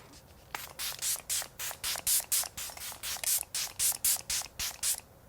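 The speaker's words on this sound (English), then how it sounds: "I'm gonna spray my skin and set my makeup in place with the Milani Make It Last setting spray" Quick bursts of Milani Make It Last setting spray misted onto a face, about a dozen short hissing pumps in a steady rhythm, close up with no talking.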